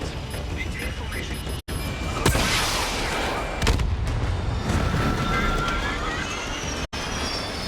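Ground fire and a missile launch in a combat flight video game: dense rumbling gunfire and explosive booms with a whooshing launch, loud and continuous, with a voice speaking over it.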